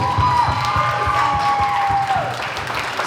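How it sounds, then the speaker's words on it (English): A school book fair audience applauds a teenage student speaker, a dense steady wash of clapping and crowd noise, with a high sustained tone over it, filling the hall for about three seconds before easing slightly at the end. "let's clap for Brighton"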